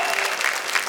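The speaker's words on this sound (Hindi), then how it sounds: "तालियां बजाइए" An audience at a stage poetry show applauds, a brief burst of dense, steady clapping from many hands, fairly loud and close.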